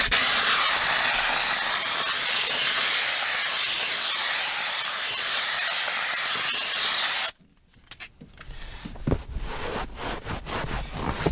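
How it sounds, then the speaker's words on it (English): A steam cleaner blasts a loud, continuous hiss onto a leather car seat for about seven seconds, then cuts off abruptly, leaving quieter handling noises and faint clicks. "it's getting hot in here with the steamer"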